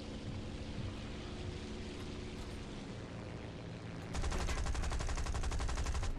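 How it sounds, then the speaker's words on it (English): Machine-gun fire during a War Thunder cockpit dogfight between a Buffalo and a Peashooter, a continuous roaring engine drone that suddenly breaks into a loud, rapid stream of shots lasting about two seconds. "Still taking in fire, incoming fire"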